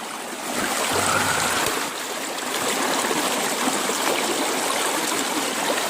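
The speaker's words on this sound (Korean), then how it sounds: "시원한 계곡물 한번 들어보실래요?" Cold mountain valley water flows steadily over rocks, a full continuous rushing and trickling wash heard up close with nothing else over it.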